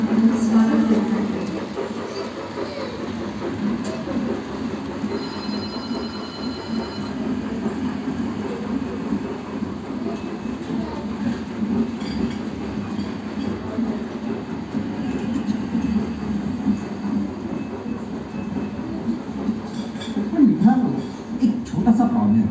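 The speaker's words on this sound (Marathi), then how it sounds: "बनवलेली जोशी स्वागत रेल्वे दूर सोडत वेगाने येत आहे." A model railway train speeds along its track with a continuous rumbling clatter and faint wheel squeal, steady for most of the stretch and growing louder and busier near the end.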